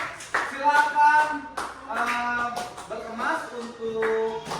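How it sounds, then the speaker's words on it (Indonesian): A primary school class claps hands together in a steady rhythmic round, loud and close, with voices of children mixed in over the clapping. "Tepuk tangan buat semuanya."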